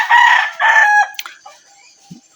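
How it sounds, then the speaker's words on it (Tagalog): A rooster crows loudly and close by in two drawn-out calls, then short clucks and softer fowl sounds trail off into near silence. "daghan mo kayong manok diri mga badi"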